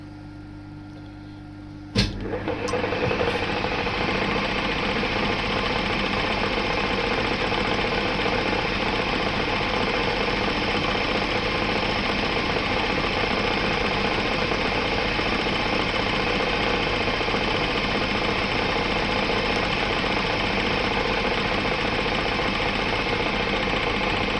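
A lathe or machine tool starts with a sharp click and then runs steadily for over twenty seconds, taking a light 0.1 mm cut on a clutch part, a constant mechanical hum and whir close by.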